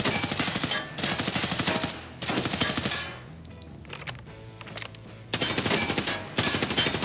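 A gun fires from the hip in Battlefield 6 in long, rapid automatic bursts, loud and close, separated by short pauses filled with fainter mechanical handling sounds.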